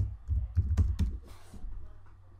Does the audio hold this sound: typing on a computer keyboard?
yes